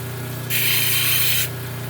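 Power tool grinding a gray shell piece for a pendant: a motor hum underneath, then a loud, bright grinding screech for about a second before it drops back to the hum, close up with no talking.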